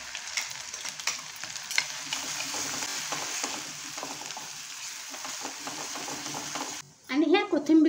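Ginger and garlic sizzling in about three spoonfuls of hot oil for homemade Schezwan chutney, a steady crackling fry with occasional stirring clicks, then a sudden louder burst of sizzle near the end; someone talks over it.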